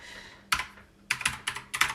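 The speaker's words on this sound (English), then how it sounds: "Sorry if my clicky keyboard is super clicky" Clicky computer keyboard being typed on: four short bursts of sharp, bright clacking keystrokes, close and fairly loud, separated by brief quiet pauses, with no talking.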